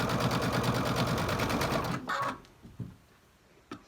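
A sewing machine stitching triangle pieces onto a quilt block square, running in a quick rhythmic chatter for about two seconds, then stopping, followed by faint handling clicks and fabric rustle.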